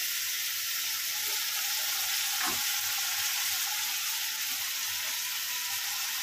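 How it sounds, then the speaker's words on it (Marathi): Onion and chopped tomato with a little salt frying in a pan, a steady close sizzle running throughout with a brief stir or scrape near the middle. "आणि फ्राय करायचं, हे फक्त असं फ्राय करायचं 2 मिनिटं"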